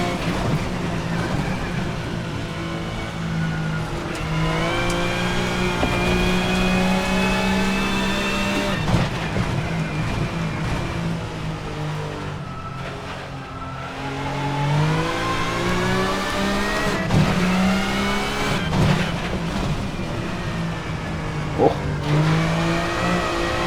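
VRC Super Touring race car in Assetto Corsa, lapping Brands Hatch: the engine howls through continuous rising and falling revs with gear changes, loud and steady for the whole stretch, with occasional faint commentary underneath.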